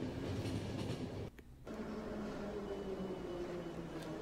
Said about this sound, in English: let's bring the train into the station and see what we have to deal with